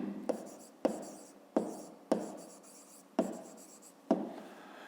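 Pen writing on paper while working a fifth-grade geometry exercise, six distinct scratchy strokes in an uneven rhythm, close and fairly quiet, with no talking.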